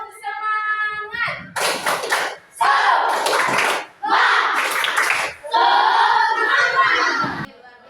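A class of schoolchildren performs a rhythmic group clapping chant, loud bursts of claps mixed with shouted voices in several close, energetic rounds after a teacher's voice opens it.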